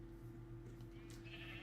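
Sheep on a Minecraft sheep farm bleat faintly in the background, a low steady bleat running under a quiet ambient hum throughout.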